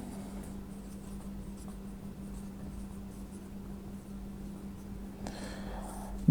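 Chalk or a marker scratches across a board while a geometry proof on circles is written, faint scraping strokes over a steady low hum, with no talk.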